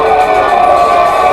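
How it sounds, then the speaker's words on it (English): A wrestling crowd jeers a Russian wrestler at a GLOW women's wrestling match, a dense, steady arena roar of many voices that holds level through the whole moment without breaks. "The crowd really giving it to the Russian."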